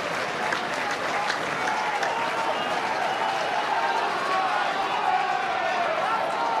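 A capacity crowd at a rugby match between Ulster and Treviso applauds and cheers in a dense, continuous roar, with a commentator talking over it.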